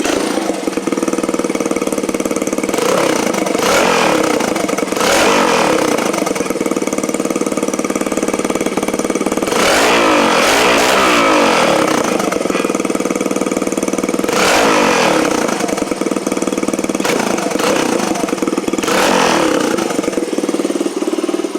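A Honda XR100R motorcycle with its spark arrestor removed, idling and then revving repeatedly in sharp bursts, its loud, open exhaust bark close to the listener.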